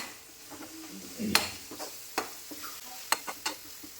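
Onions being fried and stirred in oil for a chicken gravy, a soft steady sizzle broken by several sharp scrapes and clinks of the spoon against the pan, close by and with no talking.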